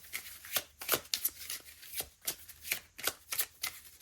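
Oracle cards being shuffled by hand, a close, crisp series of rapid riffling bursts repeating in a steady rhythm, quiet and without speech.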